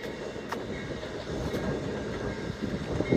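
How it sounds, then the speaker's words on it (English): An Amtrak passenger train with sleeper cars passes along the Appalachian Trail near Harpers Ferry, West Virginia, a steady rumbling clatter of wheels on rails, moderately distant and continuous, with no talking. "And here comes the train right now."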